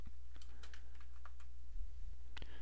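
Computer keyboard typing up close, a quick irregular run of light key clicks over a steady low hum, with no voices.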